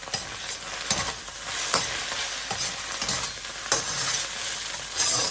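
Egg frying in a pan while being stirred, a steady close sizzle with repeated scraping strokes of a utensil against the pan, no voices.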